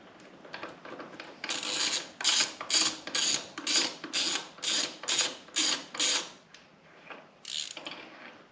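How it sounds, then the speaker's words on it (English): A hand ratchet loosens the front sprocket cover bolts on a Kawasaki ZZR1400 motorcycle, with about a dozen rapid, close, rasping clicking strokes in a steady rhythm, then a short pause and one last burst. "the best thing to do is to loosen them off one by one and see which one releases"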